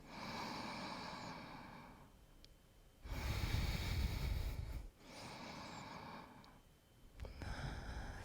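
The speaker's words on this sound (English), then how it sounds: "One more deep breath here." Slow, deep breaths during a yoga flow, soft and close, with long airy inhales and exhales alternating in an even rhythm.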